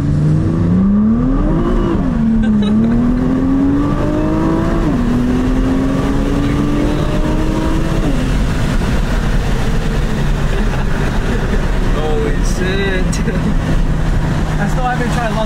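A stock Nissan GT-R R35 accelerates on the road, its engine note climbing and dropping through several gear changes, loud from inside the cabin, while people talk over it.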